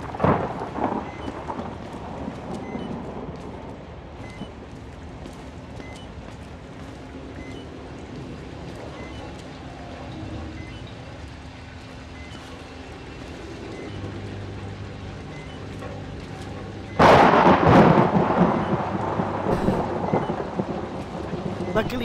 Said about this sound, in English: I got scared of the lightning.